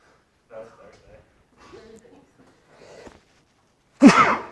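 Quiet talk gives way to a single loud, sharp sneeze up close at the end.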